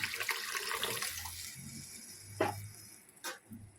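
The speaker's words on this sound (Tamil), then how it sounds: "கரைச்சி வச்சுருக்க புளி தண்ணியை இதில் ஊற்றிக்கலாம்" Dissolved tamarind water is poured into a boiling Nagercoil-style onion theeyal curry, giving a soft splashing pour for about a second and a half, then quiet simmering with a couple of light clinks near the end.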